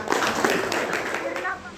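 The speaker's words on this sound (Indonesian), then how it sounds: "Kasih tepuk tangan untuk Irna." A classroom of students clapping for a classmate, quick light claps close by, largely masked by children's chatter and a speaking voice.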